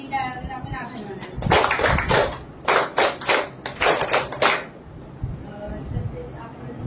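An audience at a Buddhist gratitude gathering claps in three distinct bursts of applause, loud and close, with quieter room noise and murmuring before and after.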